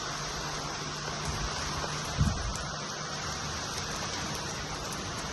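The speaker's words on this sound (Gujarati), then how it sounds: "બતાવું તમને વરસાદ" Steady hiss of rain falling in Ahmedabad, fairly soft and continuous, with a brief thump partway through.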